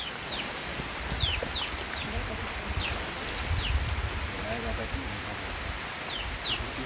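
Chickens cluck and a rooster calls now and then through steady rain on a farm, short chirpy calls scattered over a constant wet hiss with low rumbling underneath.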